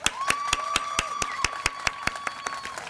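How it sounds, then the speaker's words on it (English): Scattered applause from the audience at an Arbor Day ceremony honouring Mr. David Lane, a few distinct, fairly sharp claps at a moderate pace, sounding like a small group clapping nearby. "So I think he deserves a round of applause."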